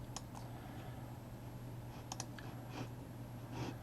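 Soft, sparse computer mouse clicks while a power chart component is dragged into place in Ignition Perspective SCADA software; a few faint single and double clicks over a steady low hum.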